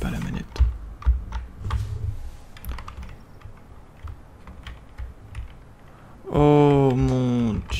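Rapid clicking of computer keyboard keys pressed to control a game, a steady run of close, dry taps with voices talking in the background, ending in a loud sustained tone.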